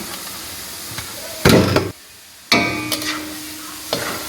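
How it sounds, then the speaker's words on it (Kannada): Pre-cooked vegetables for veg cutlet are stirred into a hot pan with spices, producing bursts of sizzling and scraping stirs separated by brief quiet gaps. "ಮೊದಲೇ ಬೇಯಿಸಿಟ್ಟಂಥ ತರಕಾರಿಗಳನ್ನೀಗ ಹಾಕಿ ಮಿಕ್ಸ್ ಮಾಡ್ಕೊಳ್ತೇವೆ"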